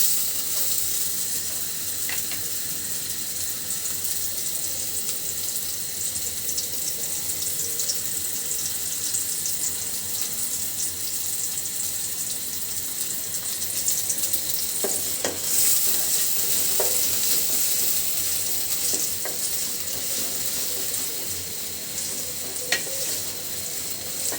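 Onions sizzling in a pan with spices for a bitter gourd and eggplant curry, a constant bright hiss with a few scraping stirs and clinks along the way.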